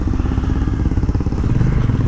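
A motorcycle rumbles by on a long-distance road ride, its engine a loud, close, steady throbbing drone with rattling clatter throughout, and no voices over it.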